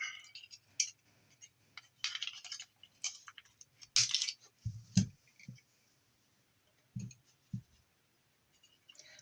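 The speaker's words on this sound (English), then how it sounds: "I'll grab my side cutters, cut that out" Side cutters snipping silver contacts out of scrap parts, a few sharp clicks and snaps scattered over a quiet background, with occasional handling clatter between cuts.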